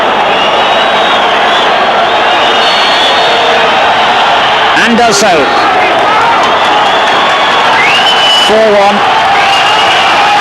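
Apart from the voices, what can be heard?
stadium crowd cheering a penalty goal at a football match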